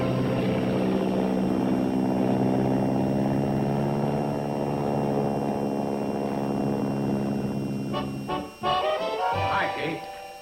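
Crop duster plane flying over a valley, a steady droning propeller engine with clear tonal harmonics, fairly loud and close, that fades toward the end as voices come in.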